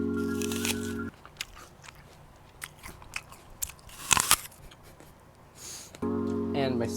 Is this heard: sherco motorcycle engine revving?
no